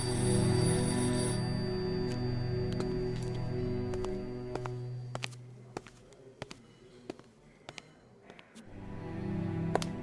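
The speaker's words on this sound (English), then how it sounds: "the phone in the back is ringing" A telephone in a video game rings from somewhere in the back, giving a run of distinct bright electronic rings over a droning background tone that fades partway through.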